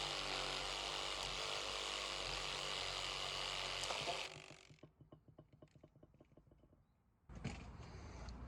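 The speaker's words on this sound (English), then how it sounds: "The Sawzall got to here and it snapped off." A reciprocating saw (Sawzall) cuts through a dry bonsai trunk: a loud, steady motor buzz for about four seconds, then a run of rapid cracking ticks as the wood gives way, and the saw whine starts again briefly near the end.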